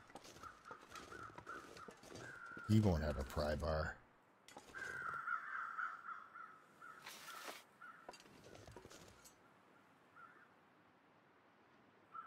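Crows caw repeatedly in a survival video game, scattered calls near and loud at times, with someone talking over much of it and faint wind between.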